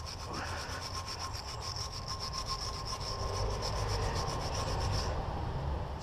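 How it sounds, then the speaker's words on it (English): Steady, continuous scraping of a wire brush against the pad-seating area of a rear brake caliper bracket on a Vauxhall Zafira, rhythmic and close, running alone without talk. "You wire brush the brace where the pads sit."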